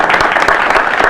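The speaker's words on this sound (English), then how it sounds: "Let's give her a round of applause." A community forum audience applauds a speaker, a full, even burst of many hands clapping at once, loud and close, with no voices rising above it.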